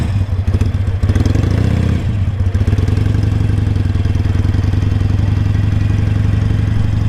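A Harley motorcycle rides along the beach at Daytona Beach bike week, its engine droning loud and steady up close with a rattly, clattering mechanical texture and a few brief dips as throttle changes.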